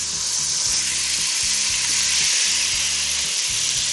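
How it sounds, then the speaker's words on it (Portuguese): Seasoning with annatto and a pinch of salt sautéing in a pan, giving a steady, dense, loud sizzle close up that runs unbroken throughout, with no talk. "Estou refogando."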